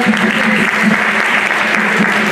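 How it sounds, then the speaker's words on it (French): Sustained, dense applause from a live audience at a children's match of a Haitian culture quiz challenge event in Paris, loud and steady throughout with a faint voice under the clapping. "Applaudissez-le s'il vous plaît, Denzel."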